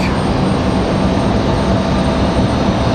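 An airliner from New York approaches Raleigh-Durham International, its engine roar loud, broad and continuous with no talking.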